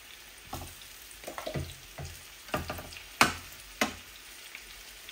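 Medium-sized aair fish fry in a pan with a quiet steady sizzle, broken by scattered sharp pops and spits, close and without talk.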